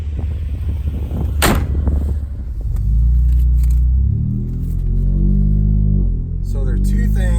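A 2018 Ford Raptor pickup pulls away, its engine rumble rising loud and low after a sharp thud, with a rough growling drone building and holding through the end.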